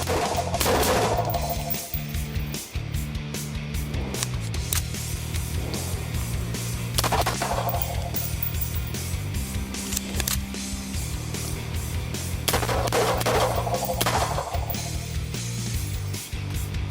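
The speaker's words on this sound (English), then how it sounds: "We're shooting indoors, and it's really getting me now." Suppressed gunfire at an indoor shooting range: repeated loud shots in quick strings and pairs, each ringing off the walls, over a constant low rumble of ventilation, with no talking.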